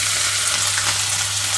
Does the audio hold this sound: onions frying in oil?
yes